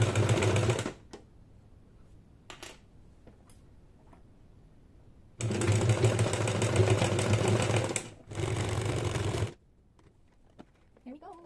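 A sewing machine runs a zigzag stitch along the seam of a polo shirt in two loud, steady bursts close by, with quiet handling clicks and a brief voice in the gaps.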